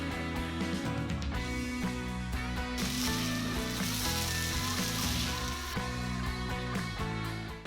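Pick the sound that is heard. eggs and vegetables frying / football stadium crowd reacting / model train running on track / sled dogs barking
eggs and vegetables frying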